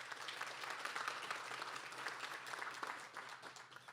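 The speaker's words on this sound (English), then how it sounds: "So let's give them a quick round of applause." An audience at a community annual meeting applauds, a soft, steady patter of many hands clapping that continues for the whole stretch.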